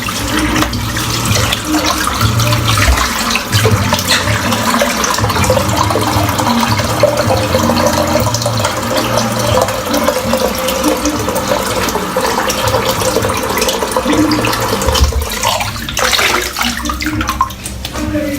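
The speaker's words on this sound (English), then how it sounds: "I'm just going to empty this water out because it's a little bit dirty" Dirty shaving water from a shavette shave is poured out into a sink, a steady loud rush and gurgle of water running continuously, with a brief drop in flow near the end.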